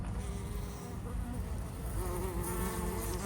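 Bees buzz steadily and close by around sage in a garden, a continuous droning hum that wavers slightly in pitch throughout, with no talking.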